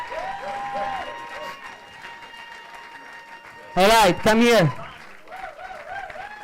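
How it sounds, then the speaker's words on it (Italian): A crowd at a European poetry slam championship event in Rome, with light applause in the background under close talk, plus loud brief vocal bursts partway through. "Round of applause."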